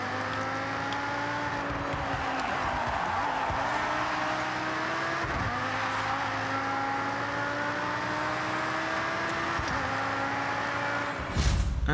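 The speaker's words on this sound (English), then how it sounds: "Really enjoying this Lamborghini." A Lamborghini engine in Forza Horizon 6 hums steadily at high revs, with brief dips and climbs in pitch as it shifts, continuous and fairly close, ending in a short burst of noise.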